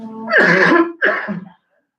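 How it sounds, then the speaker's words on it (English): A single harsh cough in two quick bursts during a city committee meeting, close and loud, then silence. "No, just a cough."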